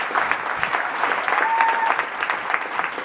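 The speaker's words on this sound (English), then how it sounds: "let's just give it a round of applause for all the youth activators in the room" A crowded room of youth activators at a summit claps in sustained, steady applause that fills the whole moment, with no voices breaking through.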